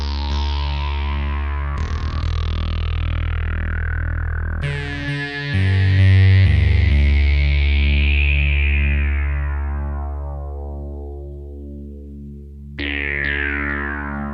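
Loud modular analog synthesizer notes swept by a swirling phaser, with digital delay repeats that pile up and slowly fade before a new note strikes near the end.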